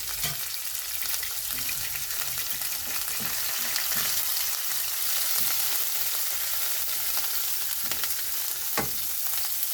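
Tomatoes sizzle and fry in Manchurian gravy, a steady dense crackle that holds at an even, fairly loud level throughout, with a few faint stirring knocks underneath.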